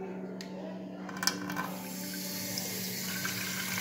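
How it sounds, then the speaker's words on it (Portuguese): Water pours steadily into a pot, a soft continuous rushing splash at close range, with a brief clink near the start. "E vou colocar água."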